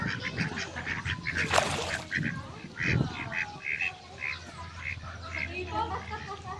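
Female ducks at an animal sanctuary quack and honk repeatedly, a close, busy chorus of nasal calls with people talking faintly in the background.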